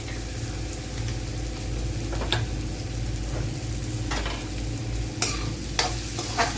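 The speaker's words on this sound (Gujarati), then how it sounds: "બધું મિક્સ કરી દેવાનું." Steady sizzling in a pan with scraping strokes of a spoon stirring salted food, a few sharper clinks along the way.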